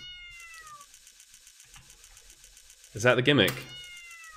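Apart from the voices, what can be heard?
cat character meowing in video game Yume 2kki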